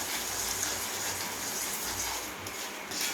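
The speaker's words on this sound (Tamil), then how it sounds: "இது ஒரு கொதிக்கட்டும். நம்ம புளியை ஊற்றிக்கலாம்." Tamarind water pours into a boiling pot for temple-style puliyogare, a steady soft gushing splash that stays even and fairly quiet throughout.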